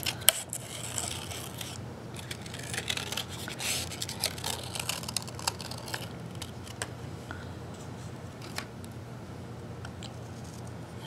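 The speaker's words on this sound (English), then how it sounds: "Cut a small section out of that." Scissors snipping and rustling through a small piece of scrap paper, a run of quick close crisp cuts and rubbing sounds that thin out toward the end, with no talk.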